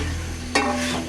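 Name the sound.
stirring and frying beef in a pan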